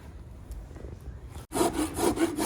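A rasp is filed across the bevel of a gaited horse's hoof in close, rhythmic, rough strokes that start abruptly after a moment of quieter scraping.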